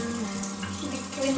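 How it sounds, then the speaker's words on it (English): Hot tap water runs steadily into a sink while hands are washed, a close, continuous splashing hiss lasting the whole brief moment. "Zen will show you how to wash your hands properly. Mixing hot water."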